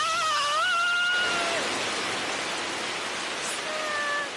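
Steady hiss of rain falls throughout, while a few brief tonal cries or whistles sound near the start and again near the end.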